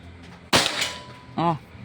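A single sharp shot from an airsoft Pajero gun, gen 6, cracks out close by indoors, followed a moment later by a brief whirring ring.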